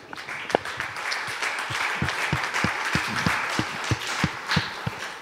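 A church congregation claps and acclaims God during a French-language service, making sustained applause with sharp individual claps standing out near the microphone and a diffuse crowd wash behind them. The claps are moderately loud and irregular.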